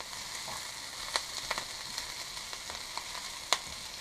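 Kale frying and being stirred in a pan for a breakfast dish, a steady soft sizzle with scattered crackles and a few sharper pops from spatula stirring, fairly quiet and close, no talking.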